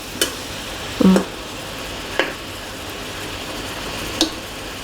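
Japanese cucumber simmering in coconut milk gives a soft, steady bubbling hiss, broken by a few sharp isolated clicks of a utensil against the pot.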